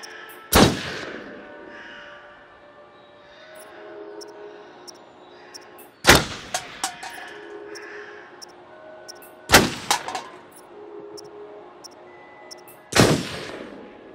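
Four loud, echoing gunshots at a shooting range in Until Dawn, fired one at a time with pauses of several seconds between them, with small clacks after some shots.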